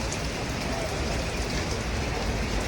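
Steady rain pours onto a street in the Montmartre–Pigalle area of Paris, a continuous loud hiss of drops on pavement with no break.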